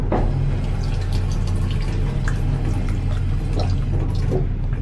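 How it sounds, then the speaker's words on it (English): A station drinking fountain runs steadily in a train station waiting area, a continuous close splashing stream with a low hum beneath and no talk. "There's a water fountain."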